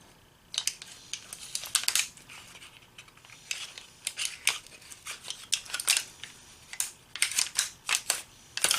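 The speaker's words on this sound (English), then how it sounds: "we're going to cut the end of the foil pack off" Scissors snip into a foil heat-treat pack holding a knife blade, giving bursts of crisp crinkling and cutting close by, with short pauses between the clusters.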